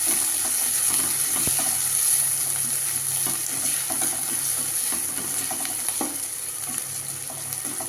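Mushrooms sauté in a pan for mushroom manchurian, with a continuous frying sizzle and occasional scraping stirs and light clinks, close and without voices.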